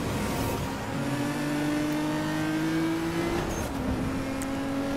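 A Nissan GT-R in the racing game Need for Speed Most Wanted accelerates hard, its engine note climbing steadily in pitch, dipping briefly at a gear change, then rising again, loud and continuous with no talking.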